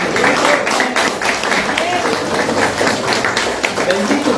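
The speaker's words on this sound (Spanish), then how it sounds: "Aplausos." Church congregation clapping steadily, a dense crowd applause with scattered voices mixed in, sustained and fairly loud throughout.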